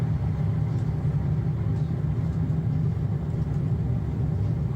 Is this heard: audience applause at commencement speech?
no